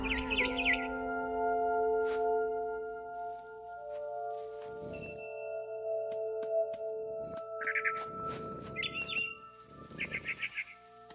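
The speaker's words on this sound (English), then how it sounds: "Then I heard chirping outside my window. It was a barn swallow going back to her nest." A barn swallow chirps in the video game What Remains of Edith Finch, with bright bursts of tweets at the start and again near the end, set against sustained tonal music and a few sharp clicks.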